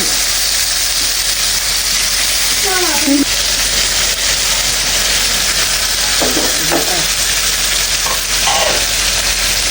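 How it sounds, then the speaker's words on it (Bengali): Fritters fry in hot oil with a loud, continuous sizzle and crackle close by, and faint voices come through now and then under the frying. "মা সুন্দর করে বড়াগুলা ভেজে নেবে"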